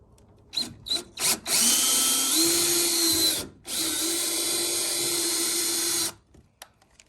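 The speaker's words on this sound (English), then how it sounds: "I'm gonna go ahead and try the drill bit of 3/8" A power drill fitted with a 3/8 bit drills into a kayak hull: a few short trigger blips, then two long, steady whining runs separated by a brief pause, close and loud.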